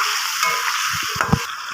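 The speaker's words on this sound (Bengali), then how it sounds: "দিয়ে এবার আমি ভালো করে কষিয়ে নেবো।" Spice paste of cumin and coriander being sautéed with fried potatoes in a pan for a pointed gourd and prawn dish, a steady close sizzle with a few soft stirring scrapes and light clicks near the end.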